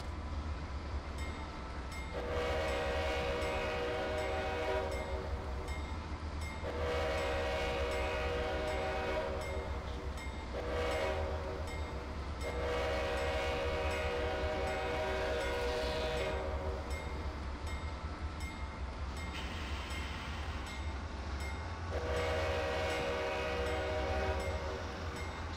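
Pacific Surfliner train horn blasts repeatedly in Train Simulator 2020, long chord sounding in several separate bursts over a constant low rolling rail rumble, loud and close.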